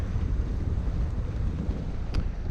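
Steady loud wind buffeting a microphone aboard a sailboat heading up a cut, a dense low rumble without pause and no voices.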